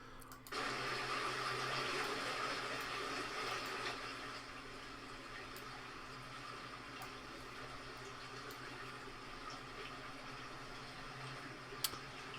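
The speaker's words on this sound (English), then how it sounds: "I hope the babbling brook isn't too loud, and I may turn it off completely" A steady wash of running water from a babbling brook plays continuously at low level, a constant trickling hiss that barely changes throughout, with one faint click near the end.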